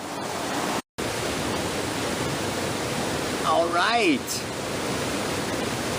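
A creek flows with a steady, loud broadband rush that fills the whole stretch, while a person speaks briefly over it.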